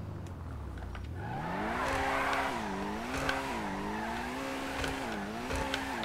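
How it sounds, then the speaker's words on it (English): A Pegassi Toros SUV with triple exhaust revs and accelerates in a video game, its engine pitch climbing and wavering through repeated rises and dips, loud and steady with faint tire squeal and no talking. "Even has the triple fire of our triple exhaust."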